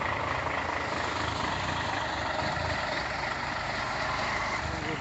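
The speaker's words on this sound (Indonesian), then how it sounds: "Proses evakuasi satu unit truk tangki teman setia, bosku, dengan ditarik sama temennya sendiri ya, dengan pelan-pelan." Heavy trucks rumble steadily as a tank truck is slowly towed by another truck along a narrow road. The engines drone continuously at a low pitch with no voices.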